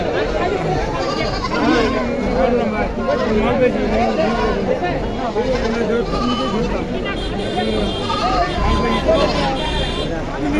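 Goats bleat repeatedly over a steady hubbub of crowd chatter and voices at a busy goat market in Dhamoirhat, Naogaon, with the animal calls and talk mingling throughout.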